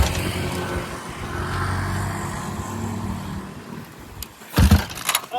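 Raider 400cc motorcycle engine turning over and struggling to start, a steady close engine drone followed by a couple of sharp, loud bursts near the end, with no talking.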